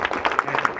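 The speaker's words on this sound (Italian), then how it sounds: "lo incoraggiamo con un applauso" Brief burst of audience applause at a volunteer firefighters' event in Trento, scattered claps cheering on a climber, heard close and fairly loud amid crowd murmur.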